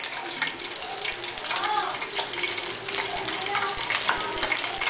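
Corndogs deep frying in hot oil give a steady, close crackling sizzle with scattered pops and bubbling that runs throughout, with no talk over it.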